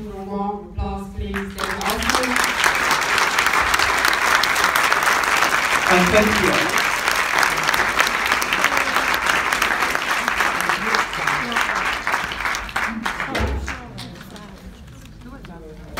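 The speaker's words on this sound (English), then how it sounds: "A warm applause, please" An audience at a Q&A screening of a George Michael documentary claps warmly and steadily for about twelve seconds, filling the room before fading, with a brief spoken thanks near the end.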